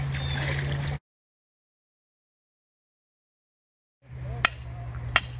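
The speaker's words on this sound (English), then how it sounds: "Clearing a hole for the rebar for the sensor bundle." Rebar is hammered into the ground beside a stream to clear a hole for a monitoring sensor bundle: two sharp metallic clinks over flowing water and outdoor background noise, after a stretch of total silence.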